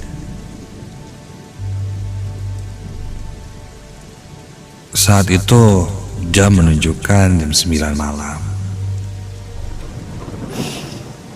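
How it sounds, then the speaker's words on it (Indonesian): Heavy rain falls at night with a steady, dense hiss throughout, and low rumbles of thunder come and go. A voice speaks over it in the middle. "Namun hujan malah semakin besar."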